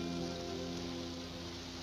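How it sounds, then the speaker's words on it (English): Steady rain falls throughout, a continuous dense patter with a low tonal hum underneath, moderately quiet and without voices. "I'm just sheltering from the rain."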